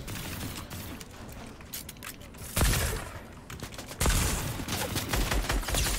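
Gunfire in the video game Fortnite, with scattered shots and sharp cracks over busy mechanical game sounds and two louder close bursts partway through, and no talking.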